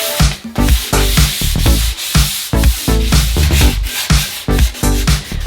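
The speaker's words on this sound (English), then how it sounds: "I did a light sanding on both rails." Light hand sanding of wooden staircase rails produces loud, close, rhythmic rubbing strokes, a steady back-and-forth scrape repeating about twice a second throughout.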